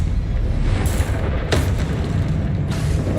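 Spell explosions from Bombarda and Confringo in the Hogwarts Legacy video game, heard as a loud, continuous booming rumble with a sharp burst midway and another blast near the end, with no talk over it.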